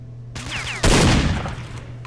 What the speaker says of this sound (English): These are actually good shotguns.